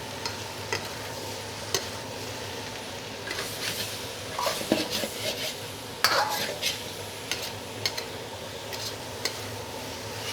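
Seafood pan-fried noodles are tossed in a hot pan over a steady low sizzle, with repeated metallic clanks and scrapes of utensil on pan at irregular intervals and no talking.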